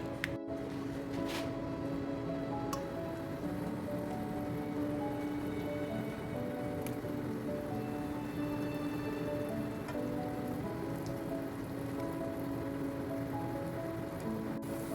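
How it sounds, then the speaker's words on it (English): Plantain slices fry in hot oil with a dense, even crackling hiss that holds steady and close for the whole stretch, broken by a few sharper pops. "we're gonna fry this for about a minute or two on each side"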